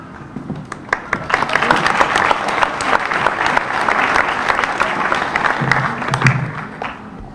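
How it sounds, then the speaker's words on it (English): An audience claps at a high school graduation ceremony at Osan American High School, a loud, dense, continuous burst of applause lasting several seconds, with a low voice surfacing briefly near the end. "I actually know why you're clapping."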